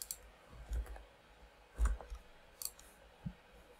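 A few sparse, quiet clicks of keyboard keys pressed for a shortcut, isolated taps with quiet pauses between them.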